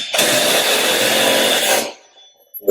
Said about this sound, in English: We'll run those screws in it.